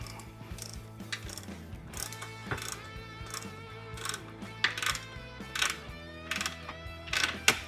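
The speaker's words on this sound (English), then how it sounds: "Ratcheting 17 millimeter wrench. So we'll get her tightened in place." A 17 mm ratcheting wrench tightening a foot peg relocation bracket on a Yamaha TW200 motorcycle, giving repeated close clicking ratchet strokes in an uneven rhythm, the faint clicks growing louder toward the end.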